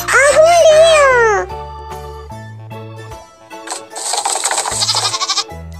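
A goat bleats in a loud, wavering cry at the start, followed by another bleating call later, over a repeating bouncy toy-like musical backing, in an animal-sounds game for children.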